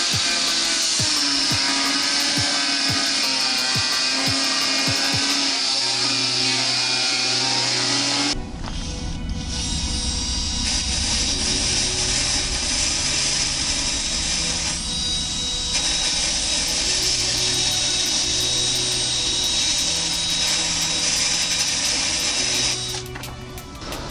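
A power tool cuts and sands the windscreen of a Yamaha XT660Z Ténéré, a loud continuous whine and grinding with a shift in pitch midway, running steadily throughout.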